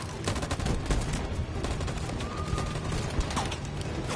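Rapid bursts of gunfire in a Detroit: Become Human firefight, dense overlapping shots rattling continuously at close range with a faint voice in the background.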